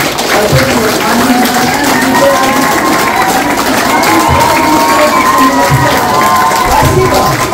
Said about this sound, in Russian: Давайте аплодируем нашим замечательным родителям